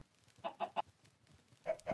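Chickens on a chicken farm in a video game give a quick run of three soft clucks, then a pause and two more, faint and close by with no talking over them.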